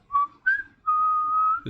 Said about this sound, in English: You hear this